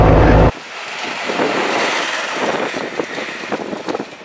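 Trabant car driven with the engine at full throttle, heard as a broad roaring rush of engine and wind noise inside the cabin, loud and steady after a brief louder burst at the start, with no talking.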